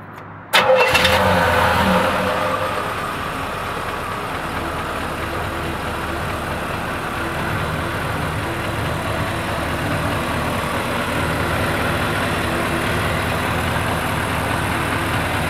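A 1953 Buick Super Convertible engine cranks briefly and catches with a loud burst, then settles into a steady, even idle that carries on alone at close range.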